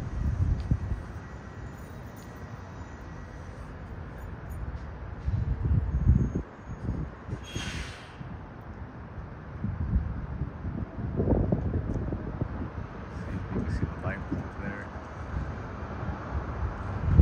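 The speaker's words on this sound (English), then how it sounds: "There's slight wind down here" Light wind outdoors buffeting the microphone in soft low gusts that swell and fade across the stretch, with faint rustling and distant background rumble.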